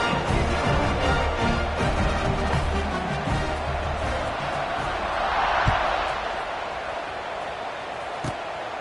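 Stadium crowd noise from a video game college football broadcast, with Cincinnati's kickoff return unit on the field: a steady, broad roar of fans that swells briefly near the middle, with a couple of sharp thuds.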